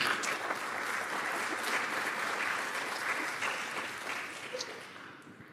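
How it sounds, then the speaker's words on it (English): Conference audience at an innovation keynote gives itself a round of applause, steady dense clapping from many hands throughout, slowly easing near the end. "Give yourselves a round of applause."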